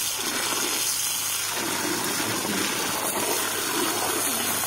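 Garden hose turned up high, pouring water into a freshly dug frog pond, a steady close gushing flow throughout with no pauses.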